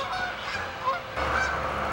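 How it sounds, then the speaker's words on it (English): Geese honk repeatedly near a small garden, their loud nasal calls overlapping in a brief, busy burst against a steady outdoor background. "Some more geese."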